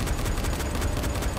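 Rapid gunfire in Dying Light: The Following, a dense continuous fusillade of shots rattling without pause for a second and a half at loud, close range.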